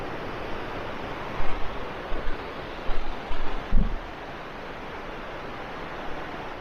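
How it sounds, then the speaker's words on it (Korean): Constant rushing water roars steadily from a nearby waterfall in Jirisan's forested hills, at about 550 m elevation, with a few faint knocks and footsteps briefly rising above the noise. "물소리만 들어도 참 좋네요."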